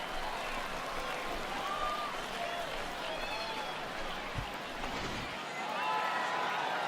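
A virtual home crowd in the MLB The Show 20 baseball video game roars steadily after a home run, a dense sustained cheer and applause wash with a commentator speaking over it.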